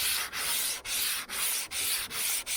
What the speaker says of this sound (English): just want to use the sandpaper and a block like this